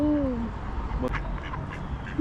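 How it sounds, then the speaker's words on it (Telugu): Ducks quack outdoors in a small town in the UK, with a couple of distinct, fairly close calls at the start over steady background noise. "రెండు రకాల బాతులు ఒకటేమో బ్రౌన్ది ఒకటేమో గ్రీన్ది"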